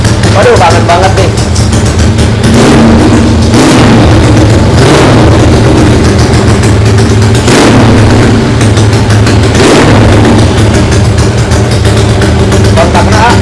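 A Yamaha 5TP racing motorcycle tuned by SBL Racing runs loud and close with a harsh racing exhaust, its engine note surging in repeated blips over a continuous buzzing idle.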